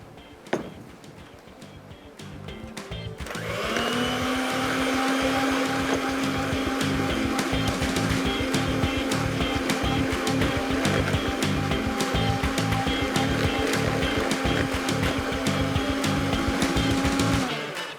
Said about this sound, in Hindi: ये अच्छे तरीके से करेंगे मिक्स, अच्छे तरीके से करेंगे बीट।